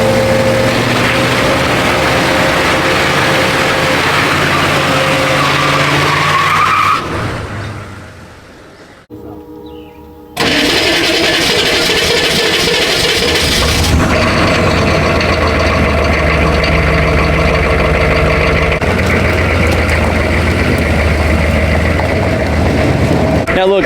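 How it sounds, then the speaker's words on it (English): A turbo diesel truck with a failing turbo cranks and starts after a brief drop to near silence, then settles into a loud, rough, uneven idle with low rumbling and a steady whining tone, heard close up with no talk over it. "Dude, this truck is running so rough. Check it out. I'm gonna go ahead and start it."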